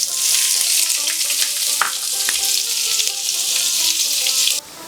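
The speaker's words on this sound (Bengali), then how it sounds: "প্রথমে পেঁয়াজ দিয়ে বেরেস্তা করে নেব।" Two large onions fry in about half a cup of oil until browned, a loud, even, close sizzle with a few light clinks, cutting down sharply near the end.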